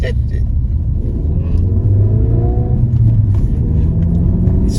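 A car is driving with a gear change, heard from inside the cabin as a steady, loud engine rumble whose pitch climbs and shifts midway, with faint voices in the background.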